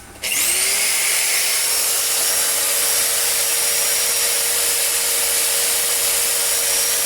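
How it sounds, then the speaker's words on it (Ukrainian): An electric drill powered by a home solar power station whines steadily at high pitch after a quick start, running continuously without pause, loud and close. "Підключай дриль і побачимо, яка буде нагрузка, потягне воно чи не потягне."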